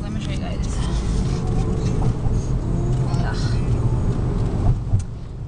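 Road traffic rolling past, a continuous close drone of car and bus engines with tire hiss and occasional swells as vehicles go by, with people talking over it.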